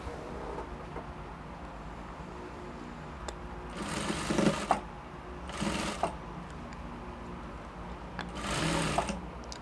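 A sewing machine stitches a puff sleeve seam in three short bursts of rapid, whirring stitching, separated by quiet pauses with faint handling sounds.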